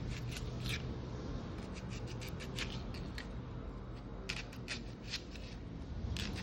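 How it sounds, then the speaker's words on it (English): A knife cutting up onion for Jamaican curry chicken, a series of crisp, irregular chopping clicks close by over a steady background hiss, with no talking. "I'm going to cut up some onion."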